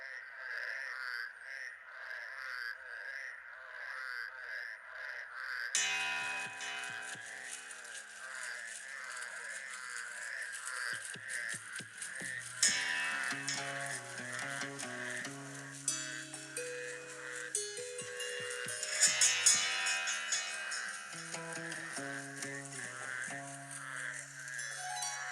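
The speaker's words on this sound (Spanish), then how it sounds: "Con ese canto de ranas" Frog chorus on a summer night at the foot of the Iztaccíhuatl volcano, a steady pulsing croak throughout, joined by denser layered calls and a low tonal hum that enter after the first few seconds.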